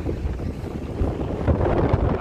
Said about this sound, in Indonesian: Anginnya juga nambah kenceng, nambah banter.